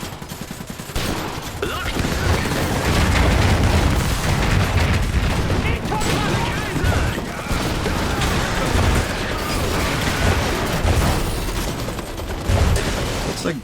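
Gunfire and explosions rage in the real-time strategy game Iron Harvest as a mech battle unfolds, with dense overlapping shots, heavy booms and clanking machinery. A voice briefly calls out over the din.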